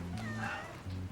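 A cat meows in two drawn-out, tonal calls separated by a short gap, close and fairly loud with no talking over it.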